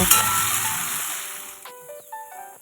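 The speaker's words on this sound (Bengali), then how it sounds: "এবার এই তেলের মধ্যেই আমি আবার আলুগুলোকেও দিয়ে দেবো। দিয়ে আলুগুলোকে একটু লাল লাল করে ভেজে নেব।" Potatoes fry in hot oil with a bright, hissing sizzle that fades over a couple of seconds, followed by a few soft stirring clinks near the pan.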